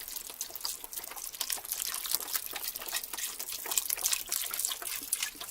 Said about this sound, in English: now I'm going to add 32 ounces of the vegetable broth.